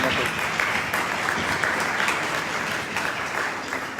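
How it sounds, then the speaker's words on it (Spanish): A conference audience at an opening lecture on the jaguar as Mexican cultural heritage breaks into dense, sustained applause that fills the room steadily, with voices faintly underneath. "Un fuerte aplauso, por favor."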